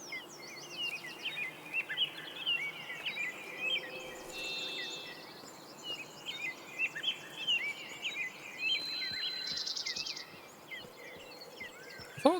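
Birds in the hunting video game Way of the Hunter, several chirping and trilling calls over a steady insect and cricket buzz, a lively outdoor ambience with no voices.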